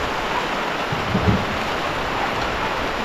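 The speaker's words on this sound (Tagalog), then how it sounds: "malakas na ulan" Heavy rain pours down outdoors as a meal is about to be served, a dense, continuous roar of falling water with no voices.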